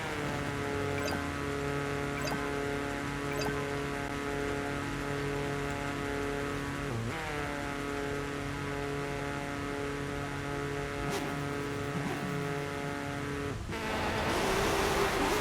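Rallycross cars, a Caterham and a Volvo, rev and accelerate off the start line, with loud sustained engine drone that shifts pitch at gear changes and swells near the end.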